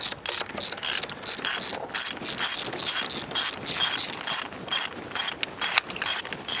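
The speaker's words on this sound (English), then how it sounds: "Let me pull these plugs back out. Try to turn it over again." The starter cranks a 1947 International Harvester KB3 truck engine with its spark plugs removed, giving a steady, fast ratcheting, mechanical churn with no compression, heard close up for several seconds with no talking.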